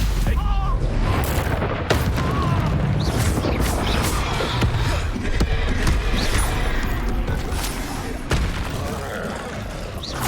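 Stupefy spells cast in Hogwarts Legacy make a dense, continuous barrage of booming blasts and crackling magical impacts, with sharp bursts throughout and voices shouting over the combat.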